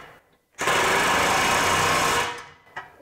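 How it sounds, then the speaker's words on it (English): An impact driver tightens a nylon lock nut on a bolt during assembly of a detailing rig, with one loud, steady, close burst of rapid hammering whir lasting under two seconds before it cuts off. "then my impact driver"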